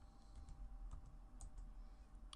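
Quiet typing on a computer keyboard, a scattering of faint, light key clicks over a low, steady background hum.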